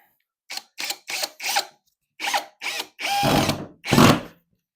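Cordless drill fires in several short bursts, then two longer whirring runs as a screw is driven into a panel, close and sharp with silent gaps between.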